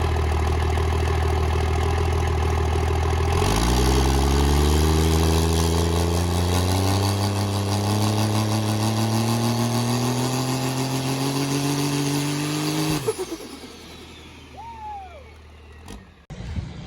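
Nitrous drag car engine spooling up, a loud idle that jumps into a sustained rising roar with climbing tones for about ten seconds, then cuts off abruptly into quieter idling and mechanical noise.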